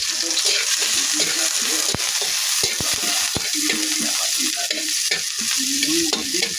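Garlic and onion fry loudly in hot oil, a dense continuous sizzle with stirring scrapes and occasional utensil taps against the pan.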